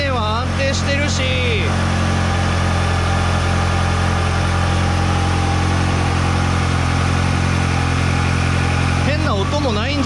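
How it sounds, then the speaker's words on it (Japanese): A Ferrari F360 Modena V8 idles steadily at close range, a continuous even drone that holds throughout, while someone talks over it at the start and again near the end. "まあ別に普通にエンジン回転は安定してるし、"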